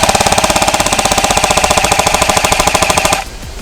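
An A&K PKM airsoft electric gun fires full auto in a loud, rapid, even stream of mechanical clicks for about three seconds, then stops sharply.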